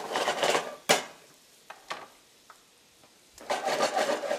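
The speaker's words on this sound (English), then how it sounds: "These peppers, we're going to saute them." Peppers sauteing with shrimp in a pan, with loud sizzling bursts at the start and end and a sharp clank of a utensil on the pan in between.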